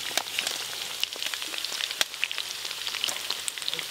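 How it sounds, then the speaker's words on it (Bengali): Food deep frying in hot oil for an evening family picnic dinner of fried rice, chilli chicken, beguni and papad, crackling steadily with dense sizzle and scattered sharp pops throughout. "এইগুলো লাল লাল করে ভেজে নিয়েছি"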